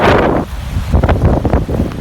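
Loud wind buffeting a microphone by the sea at an evening jetty, with heavy low rumbling gusts that rise and fall in uneven surges and a faint wash of water underneath.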